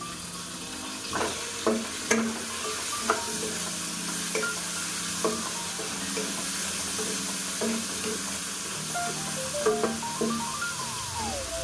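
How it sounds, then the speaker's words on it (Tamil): Cut tomatoes sizzle in hot peanut oil in a pan, a steady close frying hiss broken by repeated metal spoon scrapes and clinks as they are stirred, with no talk. "கட் பண்ண வச்ச தக்காளி போட்டுக்கலாம்"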